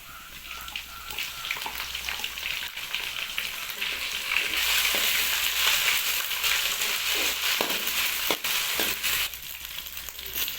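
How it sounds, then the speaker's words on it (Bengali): Ginger-garlic paste fries with browned onions in a pan, a fairly quiet crackling sizzle that grows louder partway through, with occasional stirring scrapes. "এবার আমরা আদরক রসুনের পেস্ট দিয়ে নেব।"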